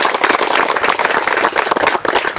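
A crowd gathered for a plaque presentation claps vigorously, a loud, busy patter of many hands close by that carries on evenly throughout.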